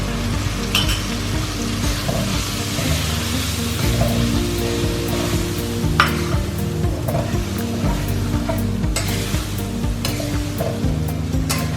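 Whole spices frying over a low flame for restaurant-style lemon chicken: a loud, continuous sizzle with periodic scraping strokes of a spoon stirring through the pan.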